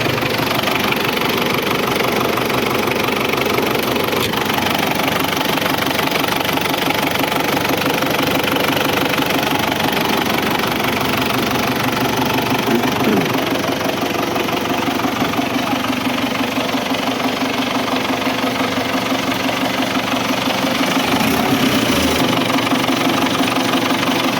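A 2018 John Deere 1025 compact tractor engine idles steadily up close, a continuous knocking diesel rumble with a rhythmic throb that barely changes throughout.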